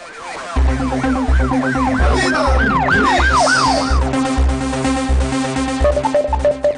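Police siren sound effect opening a news segment, a loud rising-and-falling wail repeating in quick cycles over a pulsing low beat, with a short electronic tone near the end.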